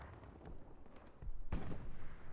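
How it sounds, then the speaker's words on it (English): Aircraft strafing run in the Hell Let Loose game on the Omaha map: a loud burst of rapid impacts and booms cuts in about midway, rising over a steady rumble of distant gunfire and explosions. "Strafing run comes in, gets a few"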